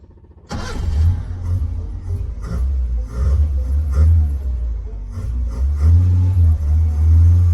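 A 1948 Crosley car starts off and drives on the road, its small engine rumbling loudly and close, rising and falling as it accelerates, with little else heard.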